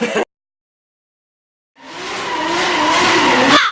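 Drift car sliding with loud tire squeal and engine roar, rising after a brief burst and a silent gap, then holding a sustained, near, screeching skid until the end.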